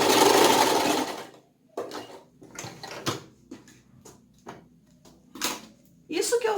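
A sewing machine runs a burst of stitching for a tiny Tilda-style fabric dog, then makes short intermittent runs and clicks for backstitching, with a longer burst at the end.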